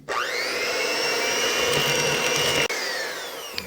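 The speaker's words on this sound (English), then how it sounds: "I'm going to cream the butter in with the sugar." An electric hand mixer whirs steadily and close as it creams butter with sugar, a continuous high motor whine with one brief dip near the end before running on and slowing down.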